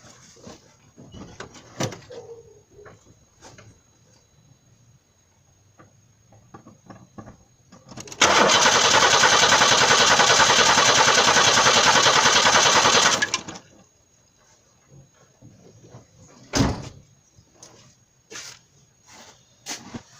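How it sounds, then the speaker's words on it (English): The starter of a 1994 Chevy Corsica with failing coil packs cranks the engine in one steady, buzzing burst of about five seconds without catching. Quiet shop noises and light clatter come before and after. "So I'm going to go ahead and turn the car over."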